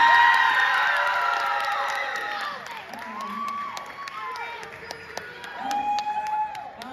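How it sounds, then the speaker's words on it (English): An audience at an event cheering and clapping, loud at first and then fading into scattered applause and whoops while voices carry on in the background. "give a big round of applause"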